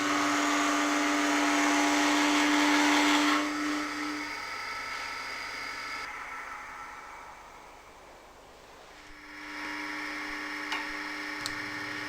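Wood being shear scraped on a lathe with a Robert Sorby multi tip tool gives a steady, close whirring scrape with a motor hum beneath. The scrape eases off and quietens for a few seconds near the end, then picks back up.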